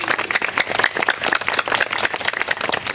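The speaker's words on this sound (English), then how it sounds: "let's give them all a round of applause" Outdoor audience at a park groundbreaking ceremony giving a round of applause, dense steady clapping from many hands throughout, fairly close and loud.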